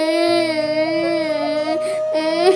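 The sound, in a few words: child crying loudly in cartoon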